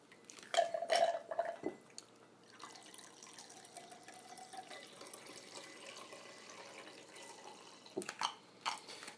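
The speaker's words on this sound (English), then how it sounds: "I'm going to pour it into this glass here so you can hopefully see its neon greenness" Neon green Surfer Cooler drink poured into a glass, a close liquid splash and trickle with a few clinks at the start, then a quieter steady pour and a final couple of drips and taps.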